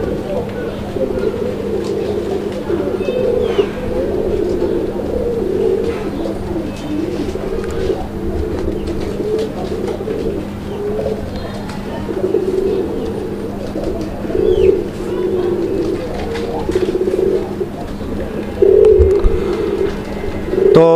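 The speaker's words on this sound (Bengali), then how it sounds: "এই কবুতরগুলোর যে ডাক, মাশাআল্লাহ চমৎকার ডাকের একটা জোড়া" A large pair of Raj-golla and Madrazi-golla pigeons coo continuously in loud, rolling phrases close at hand, over a constant low hum.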